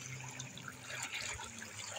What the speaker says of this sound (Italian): E qua abbiamo ovviamente anche l'idromassaggio con acqua molto fredda, ma acqua di sorgente montana.